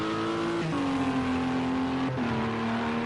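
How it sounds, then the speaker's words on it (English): Turbocharged Honda engine of a Ligier LMP2 prototype in the Project Cars 2 racing game, a sustained high engine drone with two brief dips as it shifts gear and climbs again, steady and unbroken. "that has to be a Honda, because it's the only Ligier that's turbocharged."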